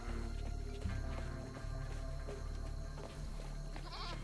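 Goats bleat in the South of Midnight video game, a short high-pitched cry rising near the end over a steady bed of background music and ambience.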